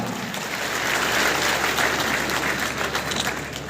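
An audience at a drug- and violence-free village programme claps loudly and steadily, a dense, even applause lasting the full few seconds with no talk.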